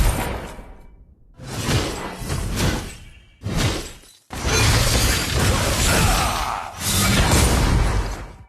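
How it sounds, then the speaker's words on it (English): A tower crumbling in a video game, with repeated loud crashes, shattering debris and whooshing bursts coming in separate waves, close and forceful with brief gaps between them. "Your team has destroyed a tower!"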